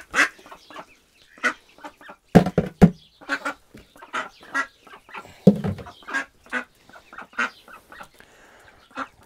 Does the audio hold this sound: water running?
no